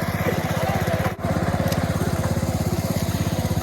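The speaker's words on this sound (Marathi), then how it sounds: "हे बघा पप्पा ट्रॅक्टर घेऊन येतो बघतो" A tractor engine runs steadily on a farm field, a close, loud, even chugging with a quick rhythmic pulse and one brief dip partway through.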